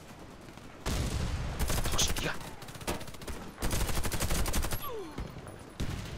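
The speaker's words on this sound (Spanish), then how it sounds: "Ya es automático el disparo, tío." Automatic gunfire rattles in the Warface video game, with loud, rapid bursts of shots lasting a second or two each and separated by short pauses. A voice exclaims over the shooting.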